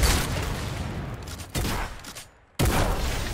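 Gunfire in the video game Fortnite: rapid bursts of shots fill the clip, broken by a brief lull before another loud volley resumes.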